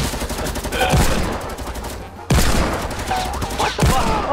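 Rapid bursts of gunfire in Fortnite, loud and close, in two dense volleys separated by a brief break, with sharp individual shots cutting through.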